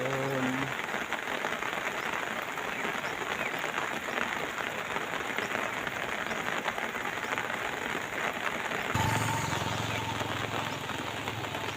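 Steady morning rain pours in a dense, close hiss of drops; someone speaks briefly at the start, and a change in the background tone comes near the end.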